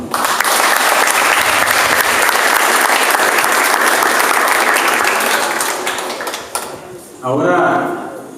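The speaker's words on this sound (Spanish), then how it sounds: "regalémonos todos un fuerte aplauso" Crowd of visitors clapping loudly together at an outdoor gathering, a dense sustained burst that fades after several seconds, followed by a few scraping, clattering knocks nearby.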